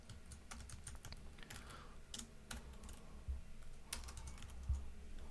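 Quick, light taps on a computer keyboard, irregular bursts of clicks with short pauses, quiet and close, with no speech.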